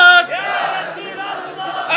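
A large crowd at an Islamic religious sermon gathering shouts a slogan together, a loud massed chant of voices that surges, dips briefly, then rises again.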